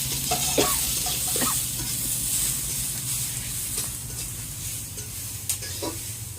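Chopped garlic and onion sizzle in hot oil with mustard, a steady close frying hiss broken by scraping stirs and small pops.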